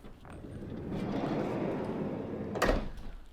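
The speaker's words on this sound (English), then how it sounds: "You've got a side loading door." A Citroen Relay 2.2 HDi panel van's sliding side loading door rolls along its track with a low rumble, then slams shut with a sharp, heavy thud near the end.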